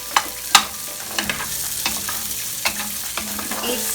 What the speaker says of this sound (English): And then the onion. And then you need to stir.